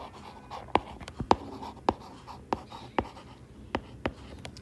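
A pen writing on paper during a math lesson, quick scratchy strokes and sharp taps in an irregular rhythm, close and fairly clear over a quiet room.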